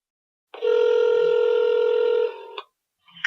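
A cell phone places a call to a U.S. Senator's regional office: a loud, steady ringback tone holds for about two seconds, then short clicks and a brief burst follow, with no talking.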